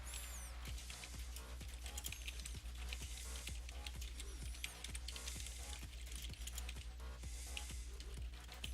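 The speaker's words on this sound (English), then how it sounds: "sorry, I'm just typing to Violet now" Computer keyboard typing, near and steady, with irregular clicking keystrokes over a constant low hum and faint background music.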